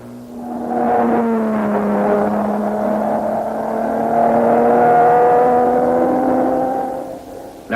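An Aston Martin DB3S racing in the Goodwood 9-hour race, its engine droning steadily with rising and falling pitch as it runs through the lap, fairly loud and continuous with no talk.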